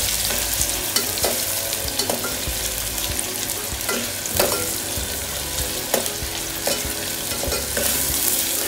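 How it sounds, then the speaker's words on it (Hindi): Onions frying in a pan, a constant close sizzle broken by regular scraping and clacking strokes of a spatula as they are stirred, fairly loud and with no voices. "हिलाते हुए अच्छे से फ्राई कर लेते हैं अनियन को।"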